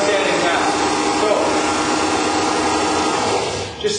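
A Flatmaster floor sanding machine runs steadily with a dense, continuous motor whir and abrasive hiss, loud and close, holding level before easing slightly near the end.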